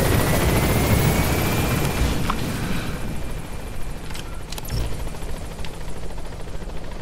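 Helicopter in the video game Metal Gear Solid V, a steady loud rotor drone holding throughout with no speech, broken by a few faint distant thumps partway through.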